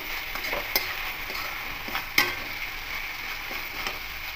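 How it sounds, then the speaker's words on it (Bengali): A pan of banana flower curry being stir-fried with salt, a steady sizzle under scattered scrapes and clinks of the spatula, with one sharper knock midway; no voices. "লবণ দিয়ে আরও ভালো করে কষিয়ে নেব।"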